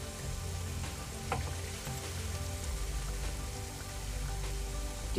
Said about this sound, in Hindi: चलिए मंचूरियन बॉल्स अच्छे से सिक चुकी हैं